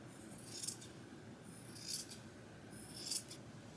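Scissors snipping through clothing fabric being altered by hand, three distinct crisp cuts spaced about a second apart, quiet and close with no talking.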